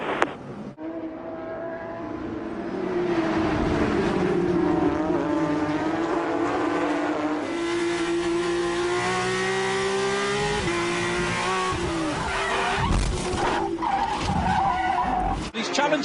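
Race car engines and screeching tires sound as a car drives straight across the racetrack during an auto race, a sustained loud engine drone with shifting pitch and skidding, with a commentator talking over it.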